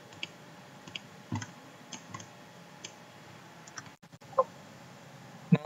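A computer mouse clicks a few times, soft and sparse, during sheet-metal stapler design work in CATIA V5, with scattered faint ticks over a quiet room hush.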